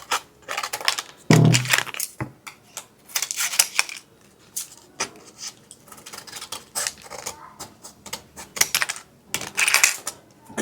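Cutting a strap straight while finishing a handmade leather mule shoe, heard as a series of sharp close clicks and snips in uneven bursts, with one louder knock near the start.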